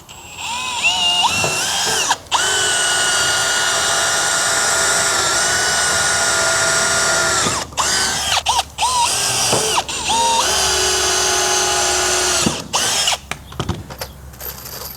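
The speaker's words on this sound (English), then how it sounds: "I'm gonna use a good sharp drill bit" A power drill with a sharp bit whines at high speed in long sustained runs, pausing briefly between bursts as it bores into treated lumber for a trailer floor.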